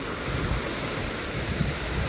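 Ocean waves at a beach give a steady broadband wash of surf, mixed with breezy wind noise, continuous and moderately loud with no voices.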